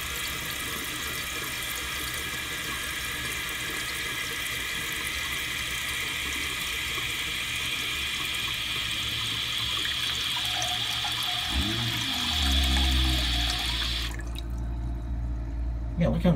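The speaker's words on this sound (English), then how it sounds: "And when it flushes" A 1983 American Standard Cadet toilet flushes and refills, water rushing and hissing steadily up close before the fill shuts off near the end.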